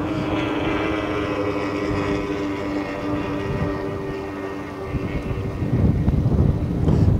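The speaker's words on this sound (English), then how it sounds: "Boat is just rock solid on the water. You hear him back off just a little bit." Outboard racing boat in a Solar Cup race runs steadily on the water, a continuous engine drone mixed with wind noise, easing slightly then swelling louder near the end.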